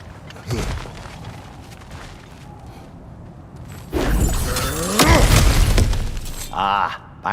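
In God of War Ragnarok, cracked ground is smashed through with loud crashing and shattering debris bursts over game ambience, with rumbling impacts in the second half.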